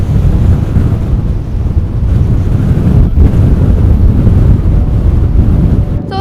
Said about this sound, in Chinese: 不要刮风了，我求求你了。